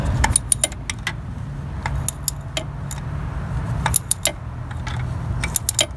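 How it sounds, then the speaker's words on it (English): Ratchet wrench working loose the low oil pressure sensor on a 2002–2006 Toyota Camry V6, a quick metallic clicking in short bursts with sharp ticks, close and fairly loud over a steady low hum. "I will keep ratcheting here"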